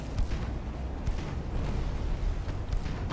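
Torpedoes striking destroyers in the naval video game Ultimate Admiral: Dreadnoughts, heard as a steady low rumble with a few dull thuds and muffled booms spread across a few seconds, moderately loud, with no voices.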